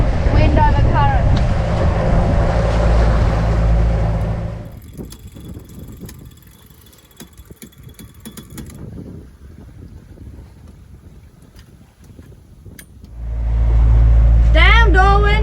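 A sailboat under engine and sail, motor sailing into wind against the current, gives a steady loud engine drone with heavy wind buffeting on the microphone, easing for a stretch mid-way before the loud rumble returns.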